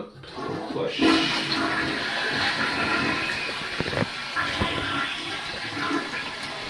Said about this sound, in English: Zip it up, flush.